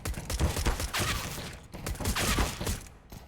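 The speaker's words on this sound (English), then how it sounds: "some clean shots followed by some not so clean shots" Counter-Strike gunfire in a pro match round, with bursts of rapid shots in two clusters separated by a short lull, loud and close with dense crackling reports.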